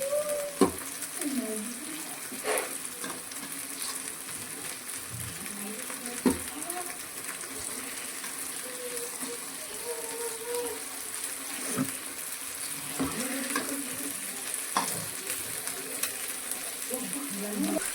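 Sardine (bhuthai) fish masala frying and being turned in a pan, a steady close sizzle with occasional scraping knocks and clatter throughout.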